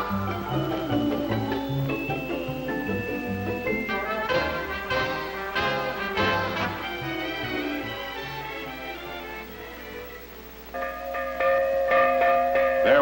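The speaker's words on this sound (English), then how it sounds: "There was a time when the sound of that fire bell would have set off a thrilling display" A fire bell at Carillon Park rings repeatedly with resonant, lingering metallic tones, strikes overlapping in a steady pattern, growing louder near the end.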